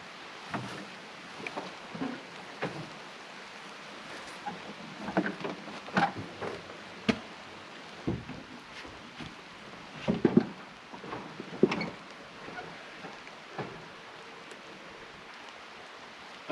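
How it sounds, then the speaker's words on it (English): Rain patters steadily outdoors near a shed and wooden deck, a soft broadband wash broken by scattered sharper drops and occasional louder knocks, with no talking. "It's starting to rain again."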